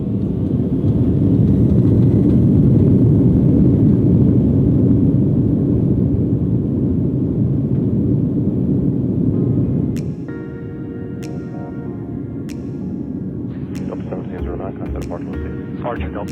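A Silver Airways dual turboprop airliner rolls down runway 9 left and lifts off, its engines roaring loud and steady before easing into a quieter drone, with a few sharp clicks near the end.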